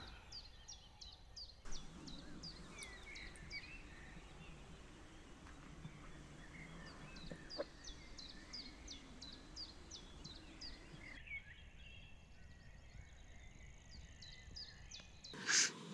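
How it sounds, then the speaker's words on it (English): Birds chirp and call at dawn around a forest campsite in Algonquin, with repeated short tweets in bursts over a steady low background murmur, fairly distant and faint. "I hear the birds chirping"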